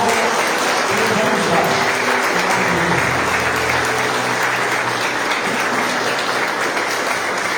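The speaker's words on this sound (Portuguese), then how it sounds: "Vamos aplaudir o nosso Deus" A church congregation applauds at a worship service, a thick, continuous wash of clapping hands that holds steady for several seconds, with faint voices mixed in beneath it.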